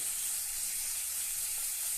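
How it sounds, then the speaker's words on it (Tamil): Ripe banana sautéing in ghee gives a steady, close sizzle that hisses evenly throughout, with no voices and no breaks. "கொஞ்சம் நல்லா வதக்கட்டும். ரொம்ப ட்ரையாக இருந்துச்சுன்னா இன்னும் கூட கொஞ்சமாக நெய் விட்டுக்கோங்க"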